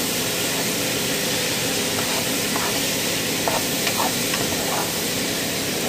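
Sliced onions for steak fajitas sizzle steadily in a hot pan, with a constant frying hiss and soft, intermittent scraping as they are stirred and pushed apart.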